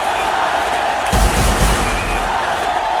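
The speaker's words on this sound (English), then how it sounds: "You can hear the crowd screaming for their favourite, the little master." Dense roar of a cricket stadium crowd cheering and screaming for a favourite batsman, a steady wall of noise that swells louder briefly midway.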